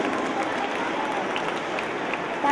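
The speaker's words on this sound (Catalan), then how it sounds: "Un fort aplaudiment per ells" A crowd gives sustained applause for the guests at a children's and primary choir gathering, with dense, even clapping filling the whole stretch.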